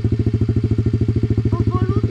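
An enduro motorcycle idles loudly and close in a fast, even pulsing beat as a learner lets out the clutch, with a faint higher tone creeping in near the end.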